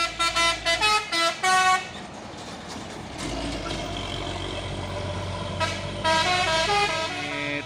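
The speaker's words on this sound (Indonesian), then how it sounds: "Ini dam truk Isuzu Giga" Isuzu Giga dump truck loaded with shells, climbing a hill in a convoy: a series of loud horn toots in a broken rhythm over a steady, rumbling diesel engine, followed by a sustained horn blast near the end.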